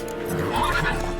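Roach, Geralt's horse in the video game The Witcher 3: Wild Hunt, gives a short neigh under steady game ambience, with a hint of hoof clops nearby.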